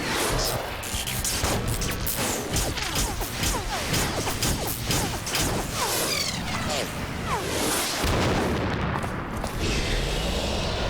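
Missiles slam and explode in the Metal Gear Solid 2: Sons of Liberty finale, a loud, continuous barrage of crashing blasts, whooshes and impacts stacked densely together for the whole stretch.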